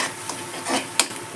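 Tomatoes are mixed into a sizzling masala in a pan, with a few brief scraping stirs over a low frying hiss.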